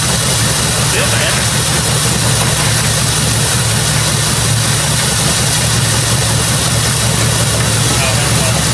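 A Jeep with a newly installed 4.7 H.O. engine idles loud and close, a rough, uneven low rumble running steadily throughout while people talk over it.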